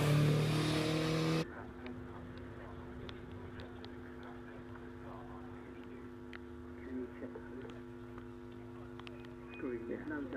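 A Tiga SF83 race car, a former Formula Ford 2000 chassis with a 1.6-litre Peugeot engine, roars loudly at a hillclimb for just over a second before cutting off. Faint hum and distant ambient noise follow.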